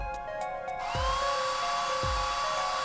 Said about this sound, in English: Not even real hair dryer and it still sounds bad.